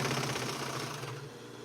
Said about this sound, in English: when I tell you I love this serger